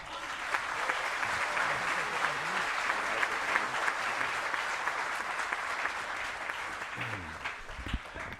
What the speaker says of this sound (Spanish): Vamos a darle un fuerte aplauso al pastor Córdoba.